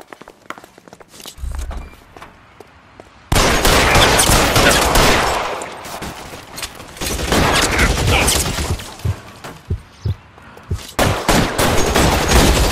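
Gunfire rings out in an L.A. Noire shootout, loud bursts of shots in several clusters with sharp individual reports, alongside footsteps and short bits of character speech.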